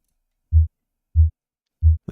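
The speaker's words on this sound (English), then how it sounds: "That sounds more like a heartbeat." Synthetic heartbeat made from biomedical signal data: three evenly spaced, deep, muffled thumps about two-thirds of a second apart, clean and isolated against silence.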